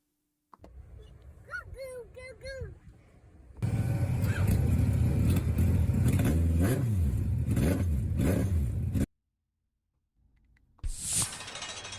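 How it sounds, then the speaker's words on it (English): Dirt derby race car engines start and rev loudly together at the Thunder Clap playoff round, a dense roar lasting several seconds that follows a voice, cuts off abruptly, then picks up again briefly. "it's time to crank up the engines"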